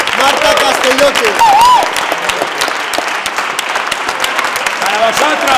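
Loud, close applause from cast and crew on the set of the film Mi gran noche, steady clapping throughout with cheering voices and talk mixed in over it.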